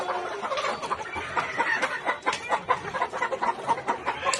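Chickens from a broiler flock sold for home delivery cluck and murmur continuously at close range, with overlapping bird calls and no talk.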